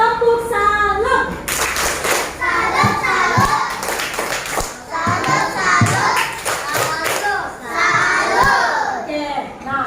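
A class of young children performs a rhythmic clapping chant in a classroom, with bursts of patterned claps alternating with sing-song group voices, led by a teacher.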